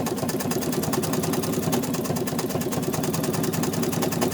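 Sewing machine stitching around the edge of an applique, running in a steady, fast, continuous rapid-fire whir at close range for the whole stretch, with no talking.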